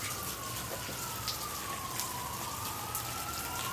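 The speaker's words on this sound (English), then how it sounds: "Sounds like police cars." Distant police car sirens wail and slowly rise and fall beneath steady rainfall during a rainstorm in Fort Worth, Texas, faint and far off, with no voices.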